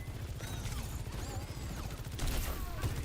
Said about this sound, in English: The enemy's got a turret.